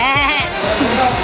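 A person imitates a goat with a short, wavering bleat. The voice is close and loud and trembles throughout the brief call.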